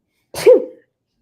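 A single sharp sneeze from a person indoors, sudden and loud, close up and heard alone in an otherwise silent moment.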